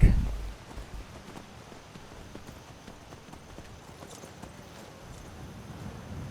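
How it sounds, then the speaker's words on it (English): Horse hooves in Skyrim clip-clop in a steady walking rhythm, fairly close, with faint ambient noise around them and a brief louder thump at the start. "I'll leave my horse here"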